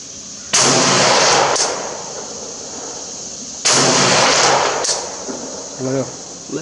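Rifle shots from a Russian AK-12 at an outdoor range, aimed at a 200 target, come as two loud sharp cracks with long ringing decay a few seconds apart, and a faint buzzing carries underneath.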